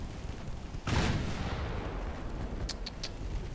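Naval gunfire from warships in Ultimate Admiral: Dreadnoughts: a single heavy boom with a sharp onset lands amid a constant low engine and sea rumble, followed by a few faint, thin high cracks toward the end.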